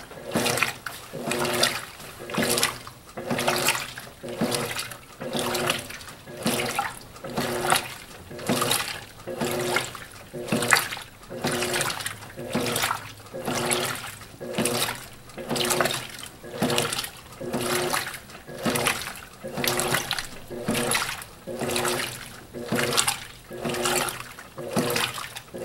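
An Electrolux Silent Control 12 kg top-load washing machine agitates its wash water, with regular sloshing, swishing surges repeating about once a second at moderate, close level.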